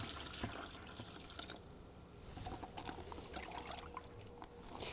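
Brine poured over pickles in a container: a faint, quiet trickle and light splashing drips, fairly close, with no talking.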